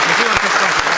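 Audience on a televised debate panel show claps in a brief, dense burst of applause, with a few sharper individual claps standing out near the microphone.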